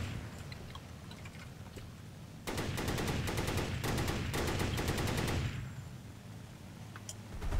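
Machine guns on planes fire during formation air combat in Minecraft, a rapid rattling burst lasting about three seconds that jumps out loud over a steady engine drone and then cuts off.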